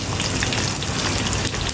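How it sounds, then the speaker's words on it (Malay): Blended garlic, ginger and onion paste frying in oil for a spicy kicap dish makes a brief, loud, dense crackling sizzle, steady throughout with no talking. "Okey, ni kita tumis sekejap"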